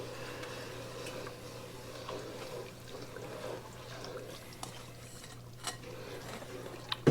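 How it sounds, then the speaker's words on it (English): Sugar is stirred into boiling wild blackberry juice in a pot, making a faint, soft liquid churning and bubbling with a steady low hum and a few light clinks near the end. "I'm going to stir this in, mixing that up real good"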